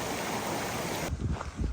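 Creek water rushes steadily at a stream crossing, a dense broadband flow that suddenly drops away partway through, leaving low rumbling wind-like buffeting.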